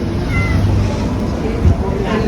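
Cats gathered at a garage door meow amid steady background noise, with a person talking over them.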